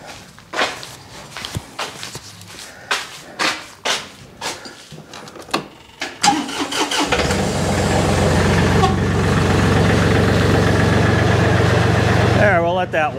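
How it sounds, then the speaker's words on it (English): A tractor on a farm wedding venue is started after a few footsteps and knocks, then settles into a loud, steady idle to warm up in the spring, the engine rumbling continuously close by. "But let's get the tractor going."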